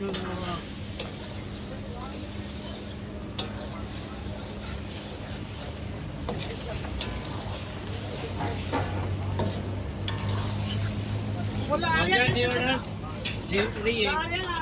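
White chicken karahi with cream is sautéed in a wok, giving a steady sizzle with repeated spoon scrapes and stirring clatter. A voice talks quietly underneath throughout.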